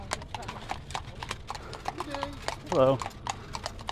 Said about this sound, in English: This time I get to film the horses.